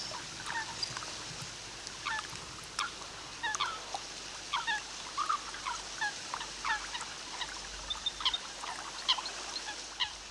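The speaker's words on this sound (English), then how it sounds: "The familiar moorhen takes its chicks foraging amid a dense carpet of duckweed." A moorhen foraging with its chicks on a duckweed-covered pond gives a steady series of short, sharp calls and thin peeps, scattered and irregular, moderately faint against a soft outdoor hiss.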